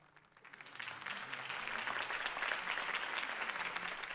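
Applause from a crowd at a campaign rally in the video game Batman: The Telltale Series swells after a speech and holds as a steady, dense clapping for several seconds.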